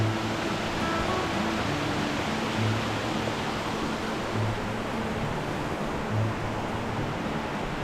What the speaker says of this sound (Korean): 폭포도 보이고요